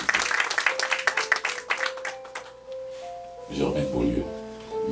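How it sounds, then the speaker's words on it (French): Audience applause at a French-language literary tribute event, a dense patter of clapping that rises and falls over about three seconds, then gives way to a sustained tonal chime and a voice. "Merci, on l'applaudit, mesdames et messieurs."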